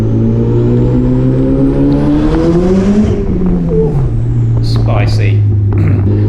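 Turbocharged NC Mazda MX-5 with an open downpipe and no exhaust system, accelerating hard through the gears with a loud, close engine roar, rising pitch, a shift dip, and turbo whoosh and flutter, voices talking over it.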